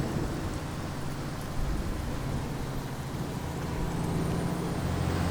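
Steady rain pours at night in American Truck Simulator, a dense continuous hiss with low thunder rumbling beneath it and no talk.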